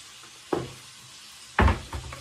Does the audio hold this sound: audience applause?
no